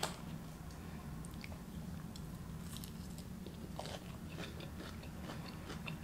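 Someone eating Buffalo Wild Wings scorpion rum hot wings close to the mic, with steady crunchy bites and wet chewing throughout and no talking.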